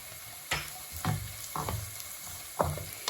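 Chopped onion and shallots frying in a pan for chicken thoran, a soft background sizzle broken by several sharp scraping stirs at irregular intervals, close and fairly loud.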